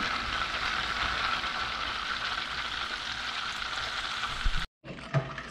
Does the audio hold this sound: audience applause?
no